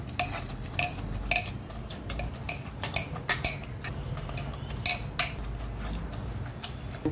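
A masher repeatedly pressing and scraping cooked wheat in a metal pot for kheer, giving irregular clinks and soft squelching thuds at close range with no talk.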